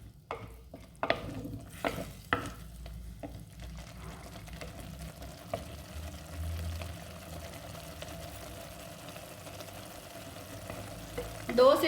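Mutton mince with garlic ginger paste and spices is fried, opening with a few sharp spoon clanks against the pot, then settling into a low, steady sizzle, close but fairly quiet.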